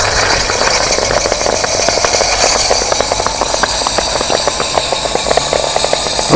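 A small live steam impulse turbine spools up with a loud, continuous whine and hiss. Rapid mechanical rattling and ticking run underneath.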